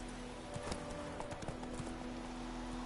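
Roach, the horse ridden by Geralt in The Witcher 3 video game, trots with a steady clip-clop of hooves. The footfalls sound moderately close over a low ambient hum, and no one speaks.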